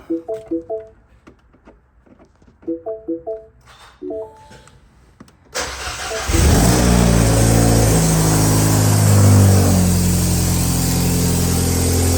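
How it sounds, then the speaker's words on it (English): A turbocharged Mini Cooper engine cranks and fires up, settling into a loud, steady running idle close by; several short clicks and rattles precede the start. "All right, let's try to start her up."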